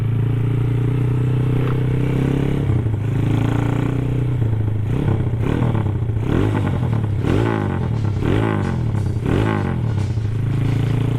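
Kawasaki Ninja SS motorcycle engine idling, then blipped in a series of sharp revs whose pitch falls back slowly each time, close and fairly loud.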